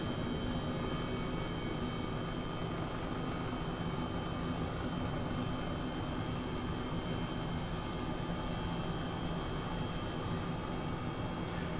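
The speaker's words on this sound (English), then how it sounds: "That's how we like to fly helicopters, low and fast." A steady, loud helicopter engine drone in the flight simulator game Microsoft Flight Simulator, flying low and fast, holds constant throughout, a continuous whine and rumble with no breaks or voices.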